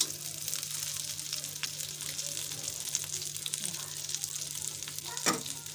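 Toll fish fries in oil with a soft, steady sizzle close by, punctuated by a faint clink of utensils.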